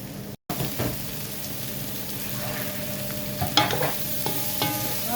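Pancit guisado being stirred in a hot pan, giving a close, continuous sizzle and frying hiss with scraping utensil strokes and a few louder clatters, no voices.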